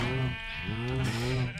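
Sheep in Minecraft bleat in a few wavering, nasal calls one after another, close and clear over a steady background hum, with no talking.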